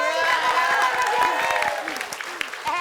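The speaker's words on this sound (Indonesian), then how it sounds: "kita kan tepuk tangan sekali lagi" Studio audience applause on a TV comedy show fills the space, dense clapping with voices and cheers mixed in, tapering off slightly toward the end.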